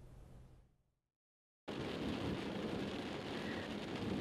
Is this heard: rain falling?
yes